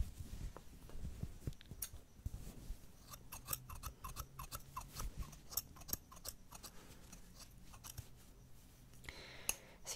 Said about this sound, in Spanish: Voy a cortar un poco más aquí.